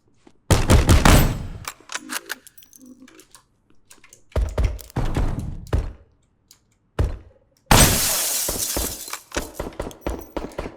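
Gunshots in the video game HOLE crack out in sharp bursts, some in rapid fusillades, others single loud cracks with shattering debris, close and punchy with gaps of silence between.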